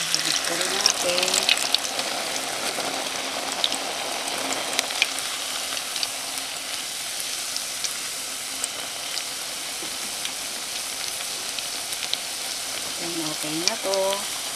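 Tempura pieces frying in hot oil give a steady crackling sizzle throughout, with brief clinks of utensils near the start and end.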